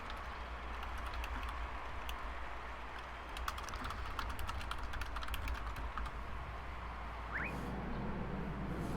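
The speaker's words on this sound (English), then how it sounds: "I will just type." Typing on a computer keyboard: a fast run of close, crisp key clicks over a steady low hum, tapering off before a quieter stretch near the end.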